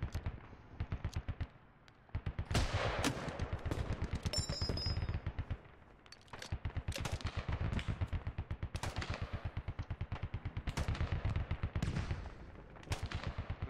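Sustained automatic gunfire with tracers coming from distant bunkers, long rapid bursts of loud, evenly spaced shots that pause briefly and resume for many seconds.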